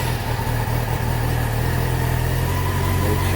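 A 2013 Yamaha FZ6 motorcycle engine idles steadily up close after its battery is replaced, a low even rumble running alone without voices.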